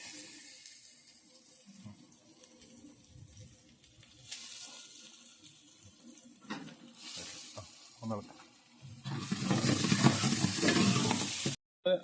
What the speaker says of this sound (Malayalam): ക്യാരറ്റും ബീൻസും പാടിയതിന് ശേഷം നമ്മൾ ക്യാപ്സിക്കോ ചേർത്തിട്ടുണ്ട്